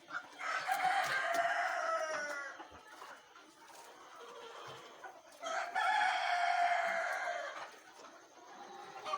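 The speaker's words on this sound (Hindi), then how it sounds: "ये मुर्गियाँ जो है ये अंडे दे रही हैं।" Many laying hens cluck and cackle in a dense, continuous chorus on a village poultry farm, swelling loudly twice with a quieter stretch between.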